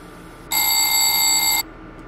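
The alarm bell of a BB 26000 electric locomotive in Train Simulator 2019 rings as one steady, loud electronic tone lasting about a second, starting and stopping abruptly over a quiet cab hum.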